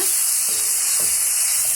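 A steady, loud sizzle of tomatoes sautéing in a hot pan, with a few soft stirring scrapes.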